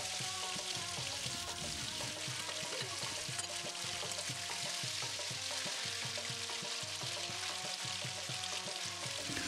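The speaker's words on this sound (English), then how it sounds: "You can fry it on medium heat until the entire chap turns a little bit golden brown" A soft, continuous sizzle of soya chaap frying in hot oil over medium heat, with faint crackles and occasional stirring, quiet and steady throughout.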